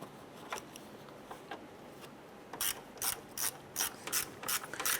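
A ratchet snugs down the screws on a 2007-2012 Nissan Versa radiator cooling fan assembly, giving quiet, close clicking in short runs that grow quicker and crisper toward the end.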